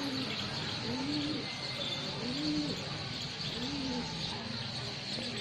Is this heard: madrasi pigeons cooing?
yes